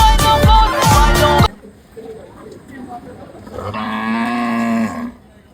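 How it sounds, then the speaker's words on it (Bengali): Cattle being bought at a crowded livestock market for Eid sacrifice: a loud, long bovine bellow opens over crowd noise, then a second drawn-out lowing moo rises near the end amid background chatter. "গরু আইলো গরু আইলো।"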